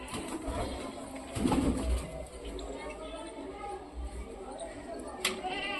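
Pigeons, including a Punnu-line cock bird, coo softly in a loft in Meerut amid low background noise, with a few faint calls and some murmuring voices nearby.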